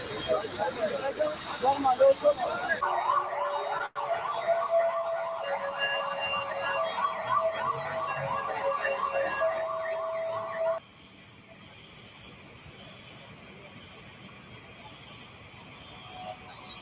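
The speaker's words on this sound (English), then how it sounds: "Got a lot of alarms going off." Several alarms and sirens wail together in steady, cycling tones, loud and close at first, then cutting off abruptly to leave a quieter hum of lower alarm tones.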